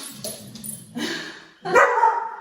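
A puppy barks and yips nearby in a home yoga setting, with a few short sharp bursts that end in a louder, drawn-out bark.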